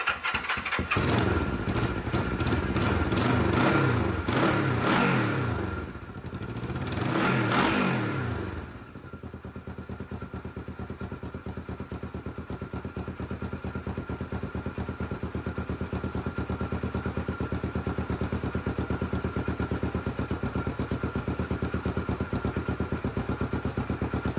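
A 1974 Honda CB450 motorcycle engine with the choke on fires up and revs hard twice, then settles into a steady, close idle that runs on for a long stretch.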